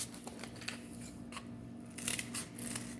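Scissors cut through folded cardboard for a craft portrait, giving close, crisp snips and crunching bites, sparse at first and then quicker near the end, fairly quiet and with no speech.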